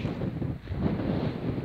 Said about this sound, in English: It's seriously windy up here.